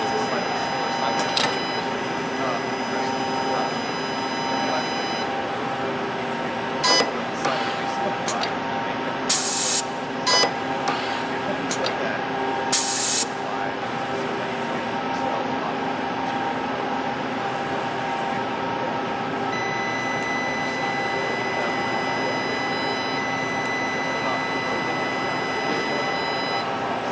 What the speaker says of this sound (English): The steel fastener can heat up the sheet and force its way through.